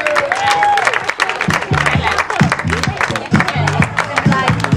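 A stadium crowd at a 2011 high jump competition applauds high jumper Alex Cole with dense, continuous clapping, while an announcer talks over it on the public address throughout.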